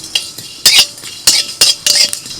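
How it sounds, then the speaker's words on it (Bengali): A metal spoon scrapes and clinks against a pan as panch phoron and a dried chilli are stirred in oil, in several short, loud, close bursts with brief pauses between. "5 ফোড়নটা একটু নাড়াচাড়া করে"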